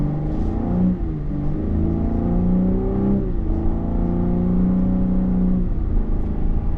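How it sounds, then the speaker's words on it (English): A 2025 Cadillac CT5 Premium Luxury with a twin-turbo 3-liter V6 and 10-speed automatic accelerates hard in sport mode, its engine note climbing steadily through quick upshifts with a smooth, continuous rumble from inside the cabin. "the 10-speed is cracking off nice and quickly in sport mode"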